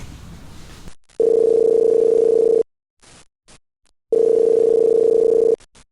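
A telephone tone sounds while a podcast host calls a guest: two long, steady, loud tone bursts separated by a few seconds of near silence, with no voices over them.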